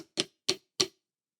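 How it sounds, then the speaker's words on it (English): Four separate unison drum strokes in an even rhythm roughly a third of a second apart, played as a rudiment with the first hit accented; the hits are close and crisp, with nothing else heard. "You're going to hit 4 unison strokes in a row"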